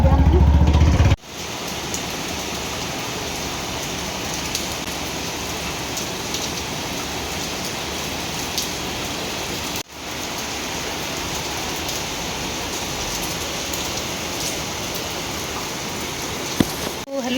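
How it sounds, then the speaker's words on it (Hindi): Heavy rain falling in Jaipur, a steady dense hiss of drops across the whole stretch, with a brief sharp cut near the start and a short dip midway. "तो आज हो रही है बारिश जयपुर में जम के।"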